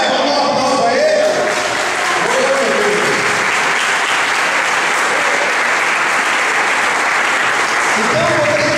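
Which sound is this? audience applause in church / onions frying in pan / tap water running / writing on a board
audience applause in church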